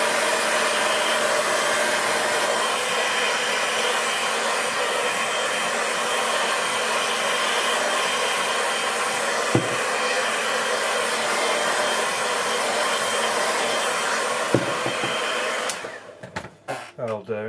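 A hair dryer blows steadily and loudly over a watercolour painting for about fifteen seconds, a constant close whooshing roar with a couple of faint clicks, then it cuts off and a few soft handling sounds follow.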